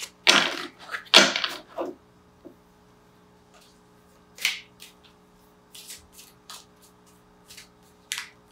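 A Crystal Visions tarot deck is shuffled in several short, crisp riffling bursts separated by pauses, close and fairly clear over a faint steady hum.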